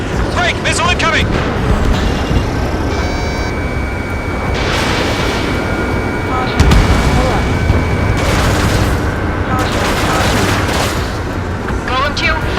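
Missile explosions and gunfire from the Ace Combat 7 combat flight game, loud and continuous with deep booms and a sharp blast partway through, under tense radio chatter.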